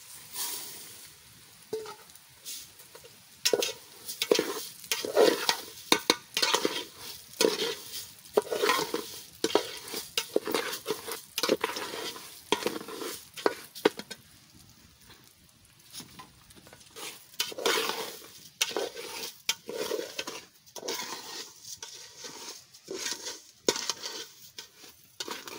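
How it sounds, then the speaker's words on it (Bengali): Rice being stir-fried in a pan for fried rice, with repeated spoon scrapes and stirring strokes over a steady frying sizzle, close and moderately loud, with brief pauses between bursts of stirring. "এবারে আমি চালটা ভেজে নেব।"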